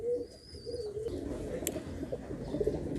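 A pigeon coos softly a few times amid quiet background noise, with a brief chirp from another bird.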